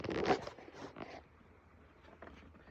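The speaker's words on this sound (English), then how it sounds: "so let's go ahead and shuffle." Ostara oracle cards being shuffled close up, soft papery riffles and slides in a few quick bursts that fade to faint rustling, quiet with no voices.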